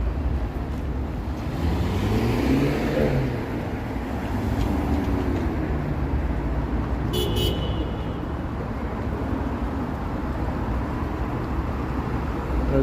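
Traffic in downtown Toronto rumbles steadily on busy city streets, with a brief high beep or horn sounding partway through over the continuous wash of road noise.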